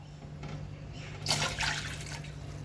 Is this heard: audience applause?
no